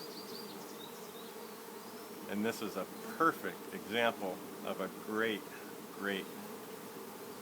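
A honey bee swarm buzzes steadily around a hive outdoors, a continuous droning hum close by while someone talks over it.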